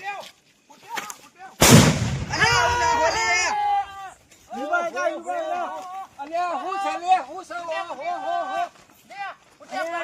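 A sharp, loud Diwali firecracker blast bursts out at night, followed by excited voices chattering and shouting over a lingering crackle.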